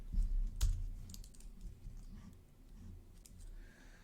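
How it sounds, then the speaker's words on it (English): Computer keyboard typing during a Windows software installation, a quick burst of clicks near the start, then softer scattered key taps over a low background hum. "So I type DIPY underscore info"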